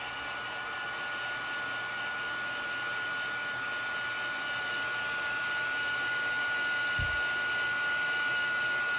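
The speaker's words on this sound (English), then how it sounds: "heat this one last time here with the heat tool" A heat embossing tool blows steadily on a handmade Christmas card, a constant close-up whooshing hum with a faint tonal whine and a single soft bump near the end.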